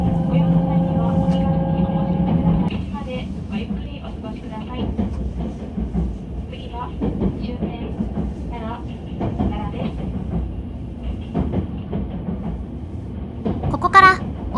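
Kintetsu limited express Mahoroba train leaving Shin-Osaka, running beside the JR Kyoto Line and crossing over it onto the Osaka Higashi Line: a steady onboard rumble with occasional rail clicks, a low hum early on, and a brief squeal near the end.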